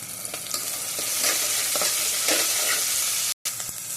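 Tomato and four cloves of garlic sauté in a hot pan, a steady bright sizzle with scraping stirs, close and continuous, with one very brief dropout near the end.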